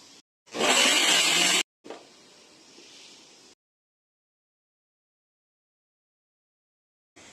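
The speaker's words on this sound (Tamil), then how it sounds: "இதை வந்து நம்ம மிக்சியில போட்டு பல்ஸ் மோட்ல போட்டு எடுத்துக்கலாம்" A kitchen mixer grinder running in short pulses on soaked soya chunks: one loud burst of about a second, then a quieter whirring spell that stops, followed by a long silence.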